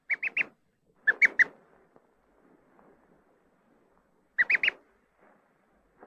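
A duckling imprinted on a toy peeps calmly once the toy is back: three short clusters of soft, high peeps with quiet pauses between them, close by and with no other sound.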